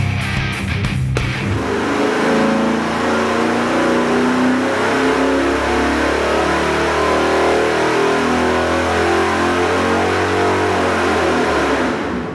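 A big block Chevy 454 V8 fitted with a Speedmaster top-end kit and a Comp Extreme Energy 276 camshaft roars under load on a dyno, a loud, sustained, rising full-throttle pull that fades at the end, with no talking.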